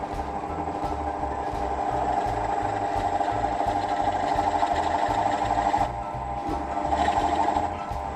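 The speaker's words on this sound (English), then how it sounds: "let this Forstner bit make a recess for my logo coin." A Forstner bit boring a shallow recess into wood for a logo coin, a steady close mechanical whir with a rapid rhythmic pulsing, holding continuously with a brief dip in load near the end.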